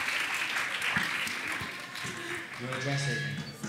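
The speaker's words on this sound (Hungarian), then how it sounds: "fogadjuk nagy tapsal és sok szeretettel Márk Zimont." Applause from an audience fills the space, a steady wash of clapping that continues throughout, with some voices and a few musical tones near the end.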